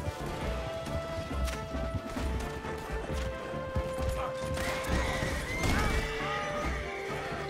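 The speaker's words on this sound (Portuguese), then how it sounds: "Acidente de cavalo!" Horse neighing and whinnying in Red Dead Redemption 2, with hoof clip-clop and a loud crash partway through as it collides, continuous and close throughout.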